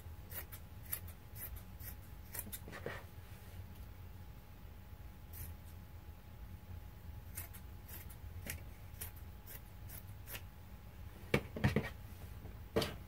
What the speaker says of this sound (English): We'll cut off this ribbed band.